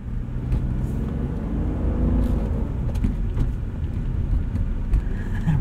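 A 1999 BMW E36 M3 with its inline-six S52 engine and the AC on, heard from inside while driving: a steady low engine drone and road rumble, with revs settling down, and no talking.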